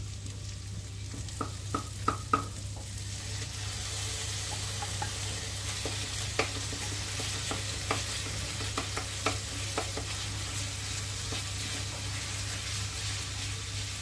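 Onion, ginger-garlic paste and green chillies frying in a pan, a steady close hiss of sizzling oil broken by occasional sharp clinks and scrapes of a stirring spoon.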